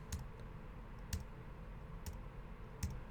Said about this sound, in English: if we hit the backslash key on our keyboard